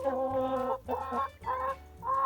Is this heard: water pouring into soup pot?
no